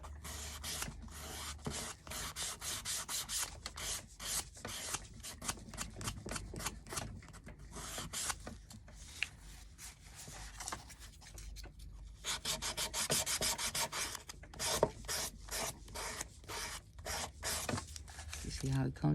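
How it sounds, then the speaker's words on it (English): Sandpaper rubs over the overhanging edges of a small wooden Easter bunny stand in steady, close, rapid rasping strokes that continue throughout, with a person talking quietly at times. "So I sand the edges down."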